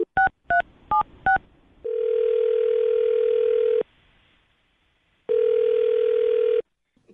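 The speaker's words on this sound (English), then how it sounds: "I'm going to dial her phone number right now." A landline telephone dials a number: four short, loud two-tone keypad beeps in quick succession, then a steady ringback tone sounding in two long bursts separated by a pause of near silence, with no talking.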